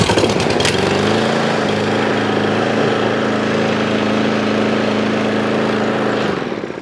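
A Craftsman M270 lawn mower engine, recently repaired after failing to start, runs loud and close with a steady buzzing drone that holds evenly before fading slightly as it winds down.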